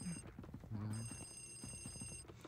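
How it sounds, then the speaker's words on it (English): A telephone rings in the Luigi's Mansion video game, a high, steady electronic ring under soft game music and ambient tones, quiet and continuous across the short stretch. "you hear a phone ringing"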